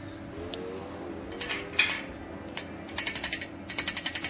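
Metal clicks and ratcheting taps from bolts and washers being fastened on a light steel fence, scattered at first, then quick rhythmic bursts of six or seven sharp clicks, close by over a low background hum.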